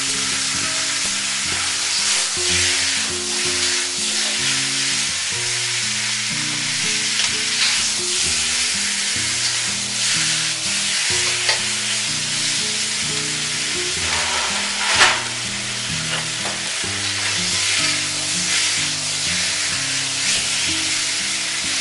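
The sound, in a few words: ribeye steak searing in a very hot wok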